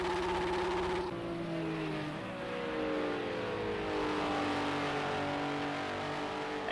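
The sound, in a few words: car doing burnouts in the video game Project CARS 2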